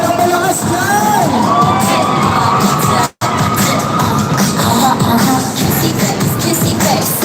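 A large crowd shouts and cheers loudly and continuously at a Zumba marathon, with a brief cut to silence midway before the roar resumes.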